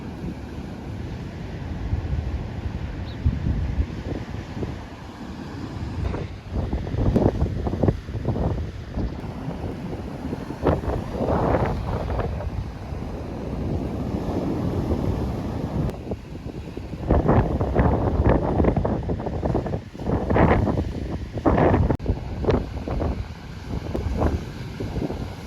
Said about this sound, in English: It's really windy, so I don't know if you'll be able to hear me properly.